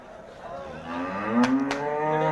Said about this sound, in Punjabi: ਨੀਲੀ ਰਾਵੀ ਦੀ ਝੋਟੀ ਆ